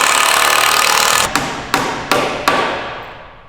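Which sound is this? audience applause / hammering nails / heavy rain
hammering nails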